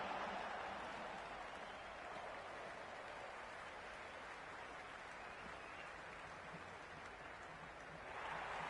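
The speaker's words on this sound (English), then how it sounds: "There's a buzz, a real buzz coming from the stands." A Cricket 26 stadium crowd during a CSK vs RCB T20 match makes a steady distant roar and buzz from the stands, faint and continuous, swelling slightly at the end.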